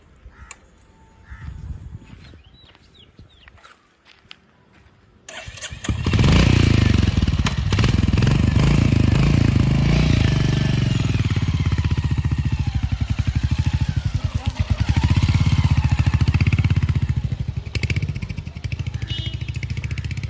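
A Royal Enfield Hunter 350 motorcycle starts after a few quiet seconds, its single-cylinder engine catching abruptly and then settling into a steady, close, thumping idle that runs on alone.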